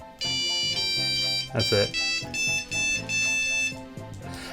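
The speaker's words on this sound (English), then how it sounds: "You could make your own ringtones in this." A custom composed ringtone plays on a Nokia 3310 mobile phone, a bright monophonic melody of short electronic tones in a quick rhythmic phrase, with brief speech over it near the end.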